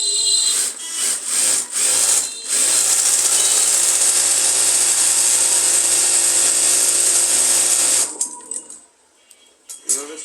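A sewing machine runs steadily while stitching a palazzo seam, a continuous loud whirring mechanical drone after a few short start-stop bursts, stopping abruptly near the end.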